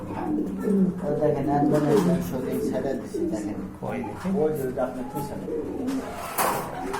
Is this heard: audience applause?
no